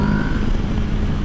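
Motorcycle riding in third gear at about 45 mph, accelerating smoothly after fuel injector cleaner was added; a steady, loud engine drone with wind rumble for a short stretch, no talking.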